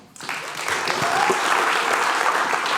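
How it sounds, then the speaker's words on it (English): Sustained audience applause at an evening arts event, starting after a brief quiet moment and holding steady and dense, with a few voices mixed into the crowd. "keep that applause coming"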